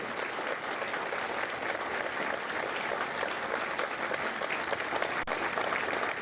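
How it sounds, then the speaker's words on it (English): An audience at a Marine Corps recruit graduation in San Diego applauds veterans with steady, dense clapping across a large outdoor crowd, sustained and even throughout, heard from a moderate distance with no speech over it. "Ladies and gentlemen, a round of applause for their dedicated service to Corps and country."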